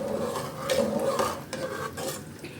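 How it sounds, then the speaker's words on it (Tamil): Pandan leaves, green peas and other pulao ingredients are mixed together in a pot, with soft scraping and stirring strokes over a faint sizzle, up close and quiet. "எல்லாத்தையும் சேர்த்து கலந்து விட்டுடலாம்"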